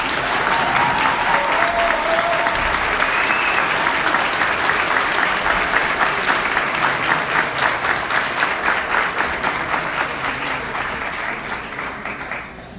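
A forum audience gives a long round of applause to welcome an Indigenous movement leader, a dense, rhythmic clapping that stays strong for several seconds before slowly tapering and fading out.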